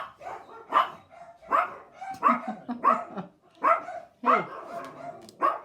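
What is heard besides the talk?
dog barking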